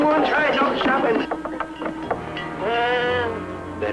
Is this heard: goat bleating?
yes